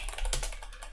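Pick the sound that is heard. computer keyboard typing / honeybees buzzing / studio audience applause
computer keyboard typing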